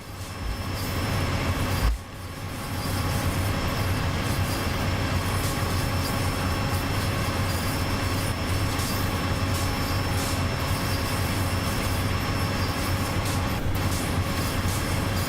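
An MBTA commuter train running with a sound mod in Train Sim World, a loud, steady rumble and drone of rolling stock with a constant tonal hum. A brief dip near the start is followed by a continuous, unbroken roar.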